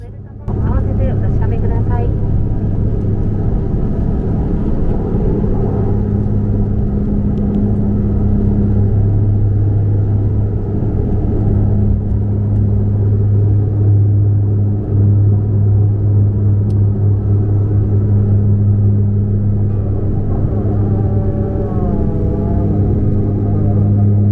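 Loud, steady droning rumble inside the cabin of an ANA Wings DHC Q400 turboprop during takeoff, a deep constant engine hum filling the space with no break.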